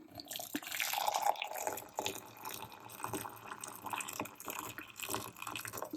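Freshly boiled water is poured over store-bought flower heads in a container, a soft continuous splashing and trickling that stays close and fairly quiet, with no voices.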